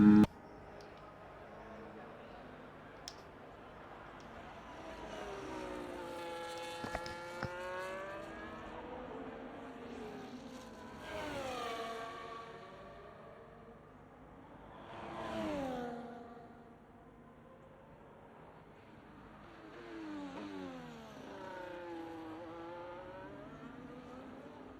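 Race car engine on a hot lap in an F1 video game on Xbox, an Aston Martin at the Brazil round, revving high and sweeping down through gear changes in repeated rising and falling whines, with no talk.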